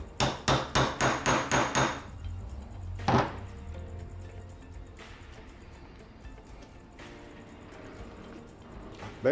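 A pressure washer carburetor with seized screws gets a quick burst of about eight sharp metallic taps up close, then a louder knock and a few scattered clanks and scrapes of tool work.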